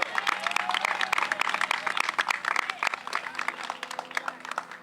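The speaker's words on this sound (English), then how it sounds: "let's give a round of applause for our efforts" Audience applause at an outdoor community event, a dense, steady wash of many hands clapping close by for nearly five seconds, with a few voices and cheers mixed in.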